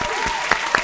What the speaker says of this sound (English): Give me a cue to sound effects for the crowd,